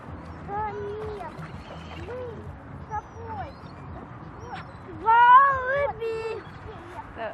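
Seagulls call in short mewing cries, a few scattered at first then a louder cluster of overlapping squeals near the end, with people talking nearby outdoors while feeding hungry gulls.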